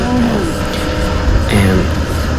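A Yamaha R1M sport motorcycle's engine drones loudly and close while merging onto a highway, with rising and falling pitch as the throttle opens, wind rush underneath.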